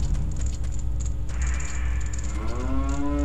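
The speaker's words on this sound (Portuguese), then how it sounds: "É uma vaca." A cow moos in The Legend of Zelda: Majora's Mask on the N64, a long, loud, drawn-out bellow that rises near the end over a steady hum of game ambience, with no talking.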